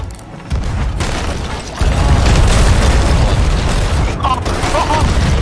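Cannon fire and explosions aboard a pirate ship in a video game, a heavy, continuous booming barrage that stays loud throughout, with voices heard over it.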